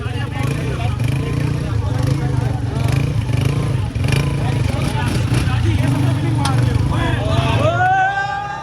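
A motorbike engine hums close by during a slow race at a university sports week in Islamabad, its pitch climbing as it revs near the end, with people's voices mixed over the noise.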